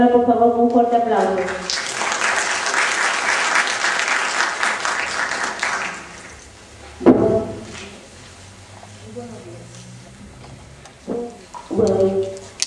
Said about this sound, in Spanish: Recibamos a la doctora, por favor, con un fuerte aplauso.